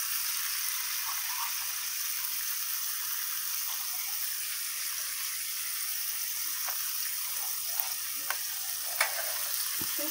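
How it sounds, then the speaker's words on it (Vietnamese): Shallots and garlic are lightly frying in oil for a vegetarian dish, giving a steady, even sizzle with a few soft pops and clicks and no talk. "Mình đã nói rồi là mình chỉ chiên sơ thôi."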